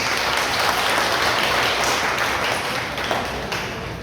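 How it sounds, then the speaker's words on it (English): Steady, dense audience applause at a BCBP Talisay, Cebu community gathering, loud and continuous for the full length with no pauses or talk over it. "So give yourselves a round of applause."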